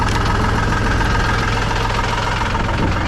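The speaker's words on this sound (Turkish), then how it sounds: "Biraz rölanti yüksek traktörün ya." A tractor engine idles at a raised, fast speed, its steady low rumble and rapid even knocking pulses running close and loud through the whole stretch with no talk.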